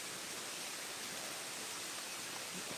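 Steady broadband rush of a distant waterfall seen through leaves, a soft, constant wash of falling water with no breaks and no voices.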